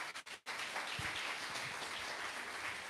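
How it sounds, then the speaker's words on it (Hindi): An audience claps in a steady, fairly faint wash for a couple of seconds after a few brief isolated claps at the start. "ताली बजा सकते इतना"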